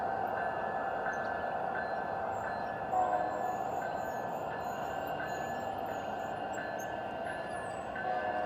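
A G scale model train running as the Sierra Northern Railway late afternoon hill job through S-curves, heard as a steady, continuous rolling rumble with a faint high whine over the top.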